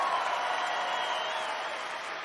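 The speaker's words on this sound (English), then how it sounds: "Can we give a big round of applause to our person running the spotlight up there?" Audience applause for a spotlight operator at a stand-up comedy show, a steady wash of clapping with a faint crowd murmur, sustained and even at moderate distance.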